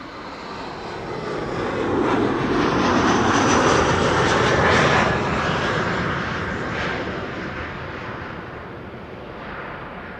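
A KLM Boeing 787-10 Dreamliner wide-body jet arriving at Amsterdam Schiphol makes a loud, close roar. It swells over several seconds, peaks near the middle and then eases off, with faint wind buffeting and no talk.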